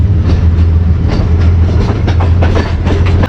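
The Mianwali Express pulling out of a junction station in Pakistan: a loud, continuous low rumble with steady clickety-clack of the wheels over the rail joints, heard close up.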